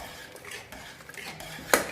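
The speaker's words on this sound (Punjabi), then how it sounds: "ਹੁਣ ਅਸੀਂ ਕੜਛੀ ਦੇ ਨਾਲ ਇਹਨੂੰ ਮੈਸ਼ ਕਰ ਲੈਨੇ ਲੋਕੀ ਨੂੰ ਤੇ ਦਾਲ ਨੂੰ" A ladle mashing and stirring cooked bottle gourd and chana dal in a pressure cooker, giving soft scraping and stirring sounds with a sharper metallic knock near the end, with no talking.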